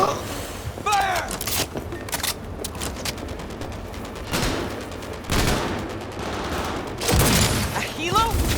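Bursts of rapid gunfire in the video game Cyberpunk 2077, loud and repeated across the whole stretch, with shouted voices and a few gasps mixed into the firefight.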